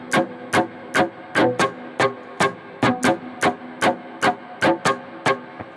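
An electric worship guitar with a delay effect is strummed in a steady, syncopated down-and-up rhythm, each sharp strum sounding close and clear over a faint hum, with no talking.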